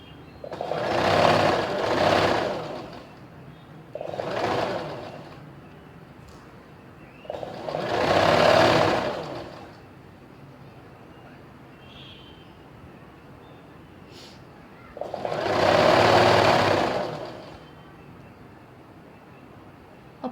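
Sewing machine stitching a strip onto a kurti collar edge to edge, running in four or five steady bursts of several seconds each with quiet pauses between.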